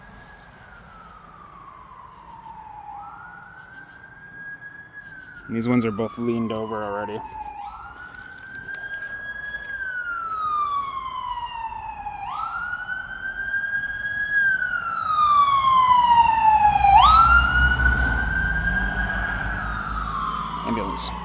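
An emergency siren passes along a garden street, its wail sweeping up and down in repeated long cycles and growing louder as it nears, with someone talking over part of it and a brief burst of other noise early on.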